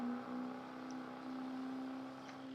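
A 2012 Chevy Silverado Duramax diesel truck engine in Farming Simulator 22 holds a steady, loud droning hum at high RPM, with a constant tone and no talking.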